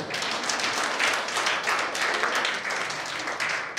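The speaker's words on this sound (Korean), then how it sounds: "박수 한번 주십시오" An audience at a fashion show convention applauds after a commercial demo is shown, a dense, steady wash of many hands clapping for a few seconds with no voices above it.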